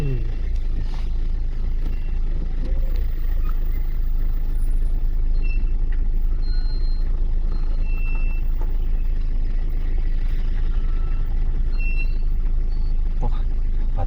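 Heavy trucks moving in road traffic give a steady, loud low rumble of engines and tyres that runs the whole time, with faint higher clanks and brake hiss mixed in and people talking over it.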